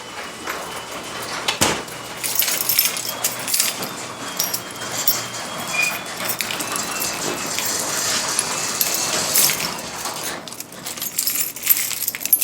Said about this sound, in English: Sorry, I'm looking for the key.